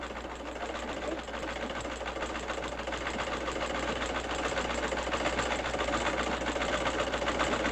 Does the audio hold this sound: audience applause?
no